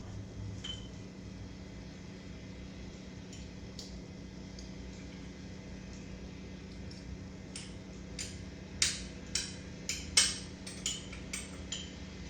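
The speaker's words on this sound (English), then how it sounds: "I'm actually going to take this tablet and crush it with the back of the spoon" A wine tablet is crushed with the back of a spoon while making homemade wild blackberry wine: quiet background hum, then a run of sharp, faint taps and clicks near the end.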